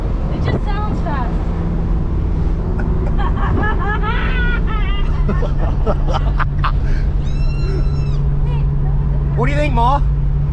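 A Pontiac Bandit Trans Am engine revs and accelerates on a gravel road, a loud steady roar with shifting pitch, heard under excited talk from people inside the car.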